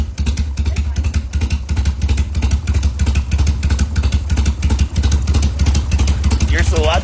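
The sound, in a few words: Harley FXR motorcycle engine running after carburetor rebuild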